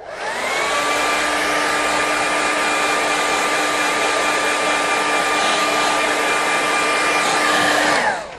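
A hair dryer blows continuously to quick-dry a wet watercolour painting of a frozen country lane, a loud, steady whirring hiss with a constant motor whine, starting and stopping cleanly.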